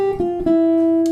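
A short jazz guitar ii-V-I line in eighth notes, a few clean plucked notes settling onto one long sustained tone, played alone.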